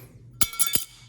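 A few sharp, bright metallic clinks in quick succession from an all-metal credit card tapped against a surface, close and clear.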